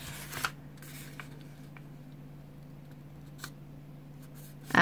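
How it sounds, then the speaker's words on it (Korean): Scissors cutting colored paper for a folded paper tulip craft give a few faint, sparse snips over a steady low room hum, ending with a louder crisp cut and paper rustle. "자, 오려줄게요."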